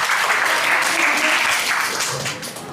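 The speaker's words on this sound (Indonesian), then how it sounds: "Boleh tepuk tangan" An audience at a talk on mental and emotional wellbeing breaks into loud, sustained applause, a thick continuous patter that fades slightly toward the end.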